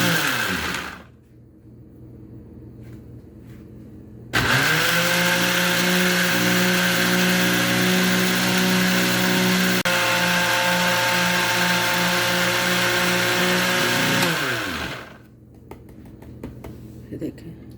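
Electric kitchen grinder blending spices with pink salt and black salt into chaat masala powder, a loud steady motor whine running about ten seconds before winding down, with brief handling sounds around it.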